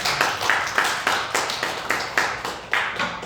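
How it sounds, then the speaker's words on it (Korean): A church congregation claps in thanks during a Korean worship service, a loose group clap with rhythmic pulses of hands striking together about three times a second, moderately close. "박수로 감사하고"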